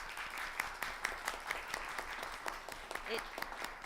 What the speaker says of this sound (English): so we applaud you and we thank you for your efforts